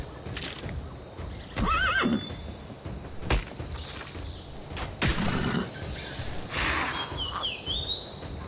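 In the video game Dark and Light, a horse gives a high whinny and a couple of snorts while hooves clip-clop intermittently, with faint birdsong in the background and no talking.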